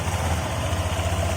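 A motor scooter's CVT engine idles with a steady low rumbling throb, close and even, heard alone over the short stretch.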